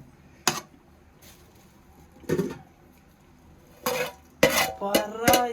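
Metal utensils clatter and scrape against a wok while chicken rice is tossed, in several sharp bursts, with rattling clinks building toward the end; no voices.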